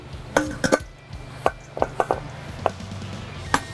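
Knife chopping sliced cabbage for jalapeño coleslaw, a series of sharp, irregular close taps against a cutting board, several quick clustered strikes with pauses between.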